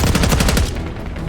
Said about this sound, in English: We've got gunfire to the right.